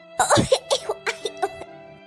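A woman coughs in a quick series of hacking bursts, about seven in a row, exaggerated and comic in tone, then silence.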